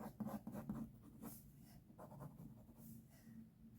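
Pencils or markers scratch and rub across paper while an illustration of a dragon is drawn and colored, a steady close scratching with short repeated strokes throughout, no voices.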